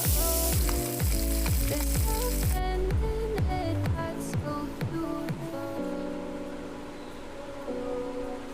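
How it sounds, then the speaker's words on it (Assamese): Puthi fish frying in a pan for Assamese fish curry, a loud sizzle under repeated rhythmic musical beats and tones that run through the whole stretch, the sizzle settling slightly softer toward the end. "এটা ছাইড হৈ গৈছে আৰু ইটো ছাইড ফ্ৰাই হ'বলৈ এতিয়া লুটিয়াই দিছোঁ"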